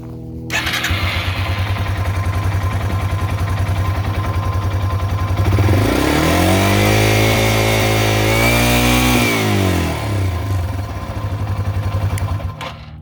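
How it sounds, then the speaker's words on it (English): A Yamaha TW200 dual-sport motorcycle engine runs close by, loud and steady at idle before revving up and back down in the middle, then settling into a rapid thumping idle again. "So when the engine's running,"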